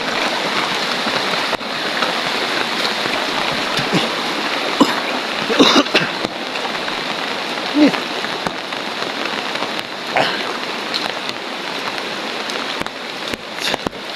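Continuous rushing water from a flowing river fills the scene steadily with faint splashes and occasional soft background voices.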